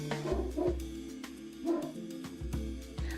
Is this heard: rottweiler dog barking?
yes